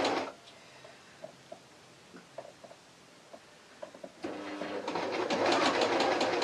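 A sewing machine stitching over the thick hem of a T-shirt, first a few faint clicks and taps, then a loud steady rattling whir that starts abruptly and runs to the end, with no voices.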